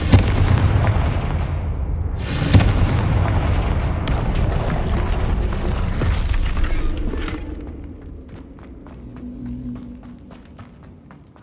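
Fiery Confringo spell blasts in Hogwarts Legacy combat, a loud rumbling boom around two seconds in followed by sustained roaring, crackling explosions that fade into a lower, quieter rumble with scattered small impacts.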